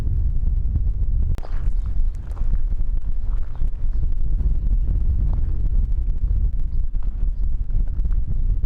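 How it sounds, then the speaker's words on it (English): Strong wind buffets the microphone outdoors at a roadside attraction of stacked vehicles in western Nebraska, a constant loud low rumble with gusty swells and a sharp thump, no voices. "hoping I don't get blown away by this strong wind"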